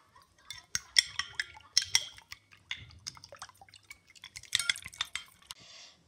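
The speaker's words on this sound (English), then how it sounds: "beat an egg" A single egg being beaten for chicken shami kabab, with quick irregular clinks and wet taps of a utensil against a bowl in uneven bursts, close and fairly quiet, without talking.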